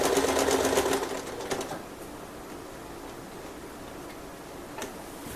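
A sewing machine runs a fast, even burst of stitches as it double-stitches a tie onto a dress-shirt apron, then stops after about two seconds, leaving a quiet room.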